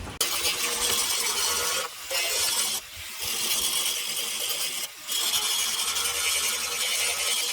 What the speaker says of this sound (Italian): Beh, flessibile, andiamo bene.